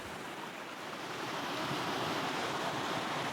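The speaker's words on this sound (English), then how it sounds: "What we've got here is a really ugly, man-killing river." A wild river in remote Tibetan mountain terrain roars as a steady, dense rushing wash that swells slightly louder midway, with wind buffeting the microphone and no voices.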